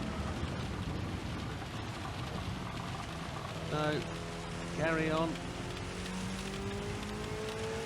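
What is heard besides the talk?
heavy rain in the video game Gran Turismo 7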